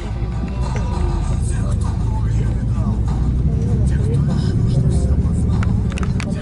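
A bus rumbles steadily along the road toward Semipalatinsk, its engine drone and road noise continuous from inside the cabin, with voices talking over it.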